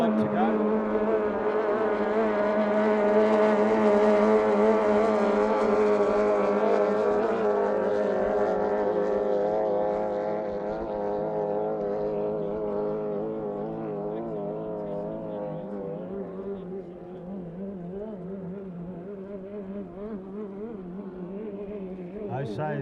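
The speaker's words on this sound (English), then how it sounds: "still some great racing between the 2 fast boats out in front" Racing boats at the Glenmaggie Cup boat race scream past with a steady high-revving engine whine that rises and then fades as they move off. A voice talks faintly underneath.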